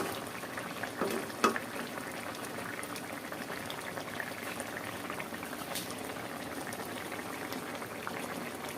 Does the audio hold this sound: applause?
no